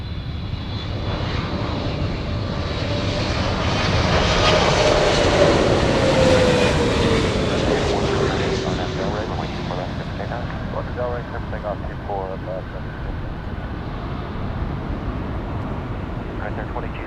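Air Force One, a large heavy jet, lands on runway 24 right at LAX, its engine roar swelling and sweeping past, then easing into a lingering rumble. Radio voices talk over it.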